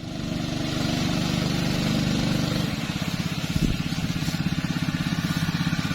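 A Honda 6.5 hp engine driving a three-inch pump on a boat drones steadily, its pitch shifting partway through before settling into a fast, even putter, close and loud.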